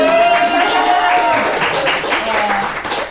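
Audience applause at a housewarming concert: a dense, steady wash of clapping from a room full of listeners lasting about three seconds, with a faint sustained tone and scattered voices mixed in.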